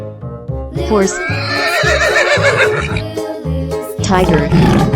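A horse gives a loud, close whinny lasting several seconds, over a bouncy background of music and other sound effects.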